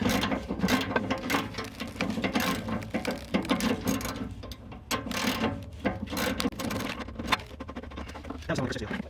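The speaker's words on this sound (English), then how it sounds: "I got a 13mm wrench holding the nut on one side. Let's see if I can break it." A 13mm wrench working an exhaust nut loose on a 2009-era 987.2 Porsche Cayman S, heard as rapid, close metallic ratcheting clicks in uneven bursts with short pauses between.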